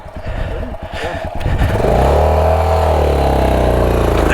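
Honda trail motorcycle on a forest trail, engine revving hard in first gear while trying to pull free; irregular clattering bursts give way to a loud, sustained close-up drone.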